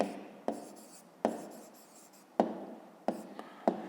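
A pencil writes out the answer to a fifth-grade maths exercise on paper, giving several short, close scratching strokes, each starting sharply and then trailing off, under a quiet room hush.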